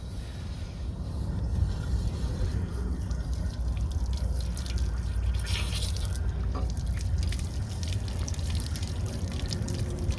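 Continuous rushing, splashing water sprayed from a bent wand into a hollow metal RV water heater tank, steady and fairly loud throughout with a low rumbling undertone.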